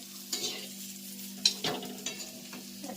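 Soft sizzling of a gunda (glue berry) relish stir-frying in a pan, with a few spoon scrapes and stirs over a steady low hum, fairly quiet.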